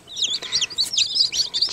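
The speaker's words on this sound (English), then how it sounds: "21 chicks in here total." A crowd of day-old chicks, Cuckoo Marans and Araucanas, chirps continuously in high, overlapping peeps, close by and steady throughout.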